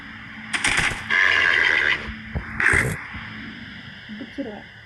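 Horse neighing in the video game Minecraft, with a few whinny bursts standing out loudly against quiet game ambience.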